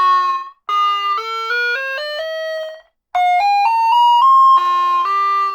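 Small 14-key mini keyboard synth playing a rising run of bright, pure electronic tones, one note after another in an even stepped rhythm, then a second ascending phrase after a short pause, loud and close with no talk.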